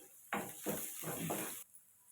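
A spoon stirs onions and spices with a pinch of asafoetida in a pan, giving three or four quick scraping, sizzling strokes in a row, close and soft, then stopping abruptly.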